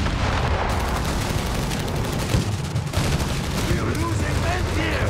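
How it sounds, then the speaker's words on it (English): Tank gun shots in Company of Heroes 3, a 1v1 match, heard as dense battle noise with booming fire and continuous low rumble throughout, loud and busy, with speech mixed in. "First two shots on the tank's quite weak."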